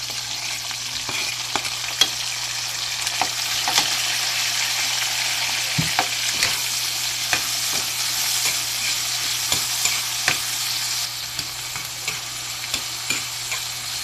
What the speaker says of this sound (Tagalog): Mixan po natin ang ating kamatis.